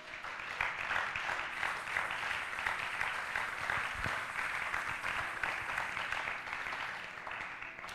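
A church congregation applauding during a prayer service, steady sustained clapping from many hands at moderate distance, filling the room without a break.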